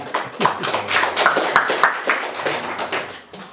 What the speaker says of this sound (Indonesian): Tepuk tangan buat PNS nih.